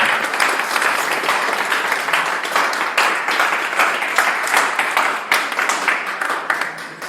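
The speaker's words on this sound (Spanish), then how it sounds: "¿Me puede dar un aplauso," A church congregation applauds during a Sunday morning service, a full sustained round of clapping with distinct individual claps audible throughout.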